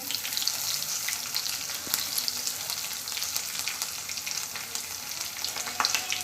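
Mustard seeds and cumin frying in hot oil in a pan for a home-style Maharashtrian vegetable dish, a bright continuous sizzle with small crackles and pops, close and steady, with brief stirring sounds.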